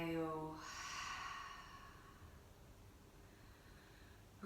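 During a slow yoga flow, an open-mouthed exhale comes as one soft, breathy sigh, close and gentle, fading into a quiet room tone right after a woman's spoken cue.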